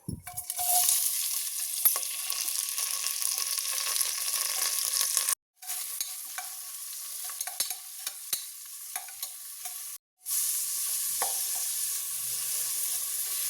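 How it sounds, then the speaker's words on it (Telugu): Onions and curry leaves fry in hot oil with a steady, bright sizzle. It cuts out twice for a moment and resumes, and spoon stirs clink now and then. "ఆనియన్ బాగా బ్రౌన్ కలర్ అయ్యేదాకా ఫ్రై చేసుకుందామండి."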